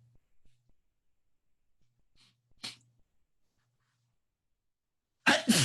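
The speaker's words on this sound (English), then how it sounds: "I think I sneeze every class," A teacher sneezes once in a quiet classroom, a faint intake and small burst around the middle followed by a sharp, louder sneeze at the end, with no talking.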